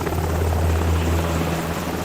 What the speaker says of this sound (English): They make the pilot fly the helicopter to the place where Langston is going to meet AM